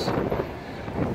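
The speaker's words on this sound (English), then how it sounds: "Very windy." Strong wind batters the microphone with a low, rushing roar that swells and eases in short gusts, at a fuel stop in California.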